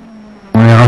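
Race car on its lap of honour at the Nogaro circuit, its engine bursting in suddenly as a loud, close, buzzing high-revving note after a quieter moment.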